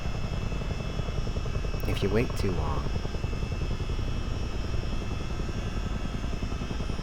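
Chinook CH-47 helicopter hovering in a flight simulator game, a steady droning rotor and engine noise running throughout at constant loudness, with a voice speaking briefly over it near the middle.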